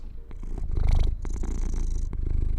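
A cat purrs close up, a steady low rumbling drone that keeps going with no break.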